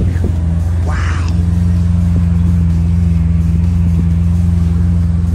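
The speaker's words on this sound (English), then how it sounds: "I think it's a modified Corvette." Modified Corvette engine giving a steady deep rumble close by at a supercar gathering, holding a constant throaty idle-to-rev drone with a brief louder burst early on.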